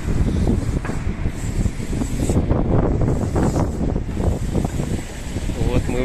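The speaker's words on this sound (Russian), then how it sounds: "Вот такой ветер, как в трубе." Strong gusty wind by the Daugava river in Riga roars and buffets the microphone continuously, with faint voices mixed into the rumble.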